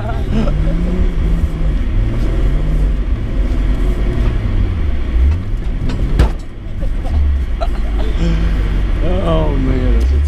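A vehicle's engine revs and labors in a rising and falling rumble as it struggles up a snowy driveway in Colorado. The low engine drone stays loud and close throughout, with a brief dip midway.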